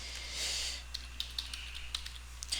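Typing on a computer keyboard, a run of soft, sparse key clicks at uneven intervals, quiet and close, following a brief hiss of background noise.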